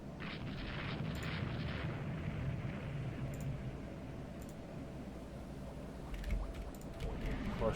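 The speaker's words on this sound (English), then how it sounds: "And Henley's hit by a torpedo, so that'll be sinking soon as well." A torpedo hits a warship in Rule the Waves 2, giving a dull rumbling explosion with a steady roaring wash of noise and faint distant booms beneath it.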